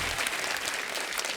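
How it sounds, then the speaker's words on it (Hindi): A studio audience on a comedy talk show applauds to welcome guests Kartik Aryan and Kiara Advani, a dense, steady wash of clapping heard fairly faintly throughout a brief moment. "हमारे सभी मेहमानों के लिए जोरदार ताली हो जाए"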